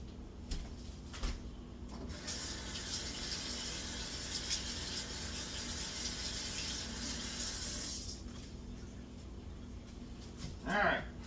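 A kitchen tap runs steadily as ingredients are rinsed under it. A continuous, close stream lasts several seconds before it shuts off, and someone talks briefly around it.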